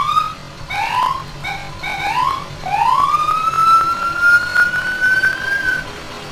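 FDNY ambulance sirens in the EmergeNYC emergency-response game, including a Dodge ambulance, sound close and loud: a series of short rising yelps followed by one long, slowly rising wail, with no talking.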